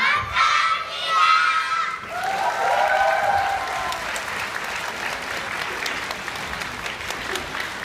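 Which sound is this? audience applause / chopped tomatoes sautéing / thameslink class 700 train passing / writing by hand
audience applause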